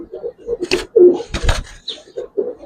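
A Giribaz pigeon held in a hand gives soft, low, repeated coos, close and fairly loud, with bursts of rustling from handling in between.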